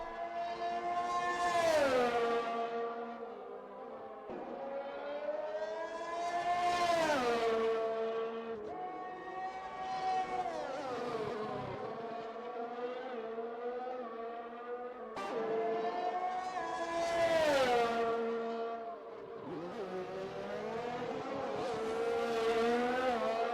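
Race car engine in a racing video game on an out lap at Imola, revving up and down through gears in repeated rising and falling sweeps, loud and continuous with no talk.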